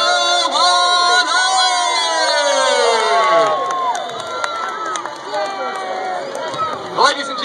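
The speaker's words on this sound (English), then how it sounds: "warm round of applause for our six lovely elephants from the Great Show on" A circus crowd cheers and shouts for six performing elephants in a Ringling Bros. and Barnum & Bailey show, loud with many high children's voices and whoops over a dense hubbub, sustained throughout.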